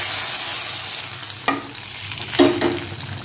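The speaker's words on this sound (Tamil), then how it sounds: "ஒரு 3 காஞ்ச மிளகாய் கிள்ளி வச்சுருக்கேன், அதையும் போட்டுக்கலாம். இது கூட கொஞ்சம் கருகாப்பில் இப்போ நல்லா பொரிஞ்சிருச்சு. இப்போ குழம்புல எடுத்து கொட்டிடலாம்." Dried red chillies fried in hot oil as a tempering are poured into a bitter gourd pitlai gravy, giving a steady sizzle with a couple of sharper splashes and stirring noises as the hot oil hits.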